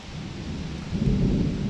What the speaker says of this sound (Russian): Гроза, молния 24/7 и проливной дождь.